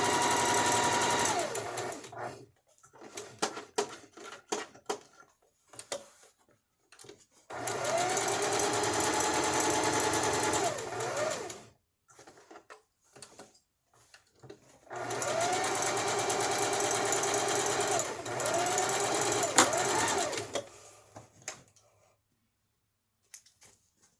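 Sewing machine running in long steady whirring bursts, stitching forward and then back stitching, with pauses and small handling clicks between runs, close and fairly loud.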